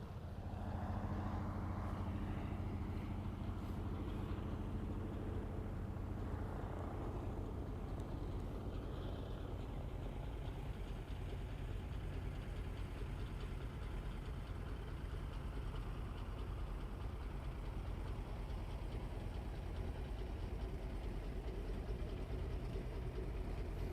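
De Havilland Beaver floatplane taxiing in on Lake Hood, its piston engine droning at a low, steady idle for the whole stretch, close and continuous with no talk.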